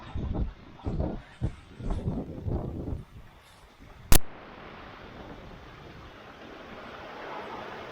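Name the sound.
big ocean swell and waves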